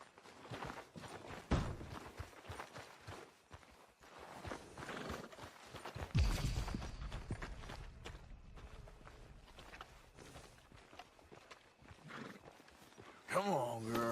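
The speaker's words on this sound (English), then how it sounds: "Are you gonna mount that new horse of yours or not?" Horse hooves clip-clop steadily on a trail in Red Dead Redemption 2 as riders set off toward a lake, close and rhythmic, mixed with game ambience, occasional louder thumps and characters talking.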